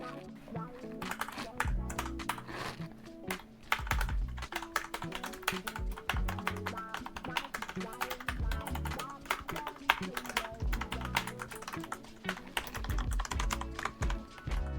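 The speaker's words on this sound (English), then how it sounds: "The keys themselves are ultra low profile Cherry MX mechanical key switches." Rapid, continuous typing on a Corsair keyboard with ultra low profile Cherry MX mechanical switches, crisp close clicks and clacks in quick irregular bursts, with occasional talk nearby.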